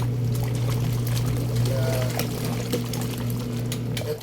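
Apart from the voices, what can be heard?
water poured from a shower head while doing laundry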